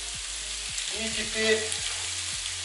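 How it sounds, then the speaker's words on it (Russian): Finely chopped meat fries in a hot skillet with a steady sizzle and crackle, punctuated by scraping and stirring clicks from a utensil; a voice says a single short word. "теперь обжариваем его"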